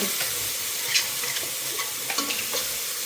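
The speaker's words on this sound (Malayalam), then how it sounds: "ഇനി കറിവേപ്പിലയും കൂടെ ഇട്ട് കൊടുക്കാം" Curry leaves sautéing in hot oil in a frying pan, a close, steady crackling sizzle with sharp little pops and occasional stirring scrapes.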